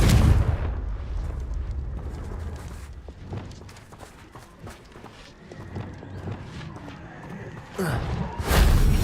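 A Confringo spell explosion in Hogwarts Legacy lands amid rumbling game noise and scattered impacts, with a heavier burst swelling near the end.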